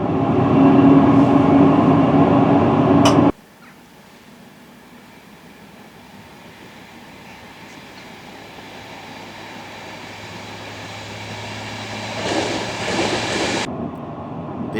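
A train on the South Wales Main Line roars into the 770-yard Newport New Tunnel. A loud open-air rush cuts abruptly to a muffled, enclosed rumble that slowly builds, swells again near the end, then drops away.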